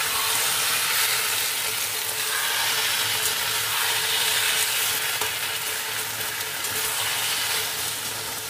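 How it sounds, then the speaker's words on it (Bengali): Taro leaves lightly frying in a pan with salt and turmeric, a dense, even hiss and sizzle that holds steady throughout with faint stirring, no voices. "এটা হালকা ভেজে রাখি"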